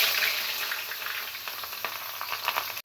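Onions fry in a pan, turning brown, with a dense, continuous sizzle and hiss heard up close, punctuated by a few soft stirring scrapes near the end.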